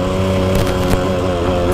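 1998 Yamaha YZ250 two-stroke dirt bike engine, running loud and steady at close range with a brief rise in revs partway through.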